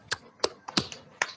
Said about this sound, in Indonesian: Bapak minta silahkan Virial untuk memimpin teman-temannya untuk melakukan tepuk PPK